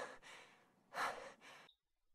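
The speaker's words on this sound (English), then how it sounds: "The door opened and I heard someone panting." Someone panting in short, breathy bursts: several quick huffs, one louder near the middle, then abrupt silence, heard close and alone indoors as a door opens.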